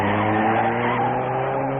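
A 1950s sports car accelerates hard through a turn, its engine droning loudly under a continuous high tire squeal, close and steady throughout.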